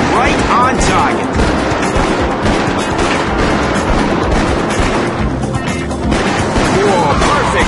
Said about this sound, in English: Good shooting, partner.